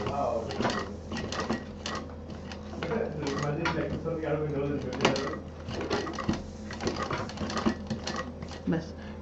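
Sewing machine running steadily while stitching fabric for a sling bag, a continuous mechanical clatter with rhythmic bursts under a person talking throughout.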